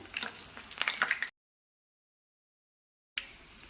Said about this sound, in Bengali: চুলারাস মিডিয়ামে রেখে উল্টিয়ে পাল্টিয়ে নাস্তাগুলিকে খুব ভালোভাবে ভেজে নেব